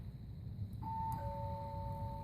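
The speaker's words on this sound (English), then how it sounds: "As you hear, the chime rings," A doorbell chime rings when bare stripped wires in an attic are touched together: two clear chord tones sound close and alone, the second a sustained rear-door tone that carries to the end.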